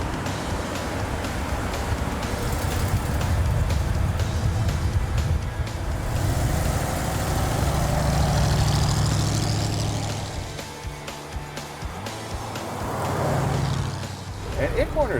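A 1968 Mercury Park Lane with a two-barrel carburetor and 15-inch wheels is driven on the road. A steady low engine and road drone runs throughout, with some swells, while people talk inside the car.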